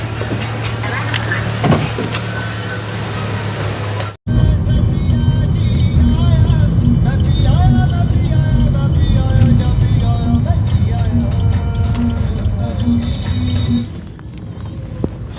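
A family car drives through traffic on a trip to Bhima Koregaon, its low, steady road rumble filling the cabin, briefly cut off, while people talk intermittently inside.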